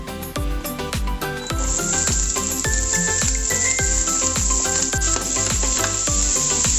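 Onion dropped into hot oil for yellow rice with meat, a loud bright sizzle that rises and holds steadily, with rhythmic thumps and scrapes of stirring underneath, close up and without talk.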